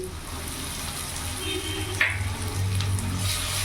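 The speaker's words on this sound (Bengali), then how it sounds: "পেঁয়াজটা ভাজা ভাজা হয়ে গেছে এরই মধ্যে এখানে আদা রসুন লঙ্কা পেস্ট আমি দিয়ে দেবো" Chopped onions already browned in a pan sizzle steadily as a ginger-garlic-chili paste goes in, with one sharper splash of frying partway through, while the gas flame burns on medium beneath.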